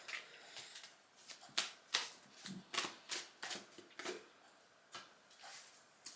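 Tarot cards are shuffled close up in quick riffling bursts, about a dozen crisp snaps and slides spaced unevenly, quiet and alone with no talking.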